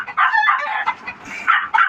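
Chickens at a rural Filipino home, a rooster crowing loudly and close in a few bursts, with clucking fowl mixed among the calls.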